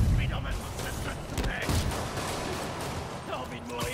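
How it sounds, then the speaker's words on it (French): Gunfire during a shootout in a video game, dense bursts of shots and mechanical clatter layered over a busy battle mix, moderately loud throughout. "Un fusillade avec de la technologie stable."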